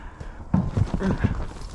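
Horse hooves clip-clop on ground as a ridden horse passes through a thrown wooden gate, a few close, irregular hoof strikes over roughly two seconds.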